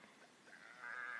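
A black sheep in a video game gives a short bleating call that rises and strengthens toward the end, heard alone and fairly close.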